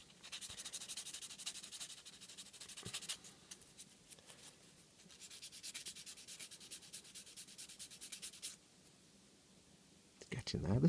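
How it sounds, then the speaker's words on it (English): Close, scratchy strokes of a sanding stick on a plastic model part rub in bursts, pausing briefly between passes, with soft handling noises at the end. "This now smooths down the last lot of sanding."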